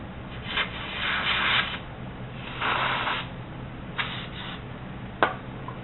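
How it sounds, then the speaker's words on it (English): Brake cleaner is sprayed onto bolts during rear wheel bearing work on a 1989 Corvette roadster, several short hissing aerosol bursts a second or so each, close and fairly loud, ending with a sharp tap. "Here's my trusty brake cleaner."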